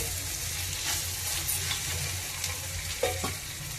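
Spices, chili powder and turmeric, fry in oil in a pan for an ivy gourd tamarind curry: a steady close sizzling hiss with a few soft stirring scrapes, and no talking.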